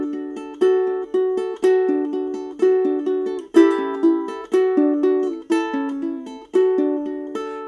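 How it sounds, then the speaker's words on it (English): Ukulele fingerpicking of Deck the Hall: thumb on strings 4 and 3, fingers on 2 and 1, in a steady repeating arpeggio of bright plucked notes, close and clear, with no voices. "The thumb would play strings 4 and 3, first finger string 2, middle finger string 1."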